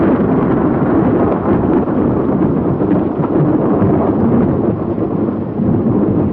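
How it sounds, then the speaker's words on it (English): A nuclear blast wave reaches the trenches as a loud, sustained roar of rumbling, wind-like noise that stays dense and unbroken from start to finish. "Seconds later, the blast wave reaches the trenches."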